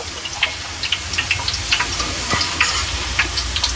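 Boondi batter sizzles and crackles in hot oil, a dense close frying hiss scattered with sharp pops and light ticks of a ladle, with no talk.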